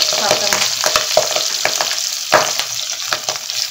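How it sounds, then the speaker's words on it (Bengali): Pabda fish fry in hot mustard oil, a steady loud sizzle broken by frequent sharp pops and spatters as the fish splutter in the pan. "দেখো সর্ষের তেল দিলে কিন্তু পাবদা মাছ ফাটে না, অথচ আমি সর্ষের তেল দিলাম তাও ফাটছে পাবদা মাছ"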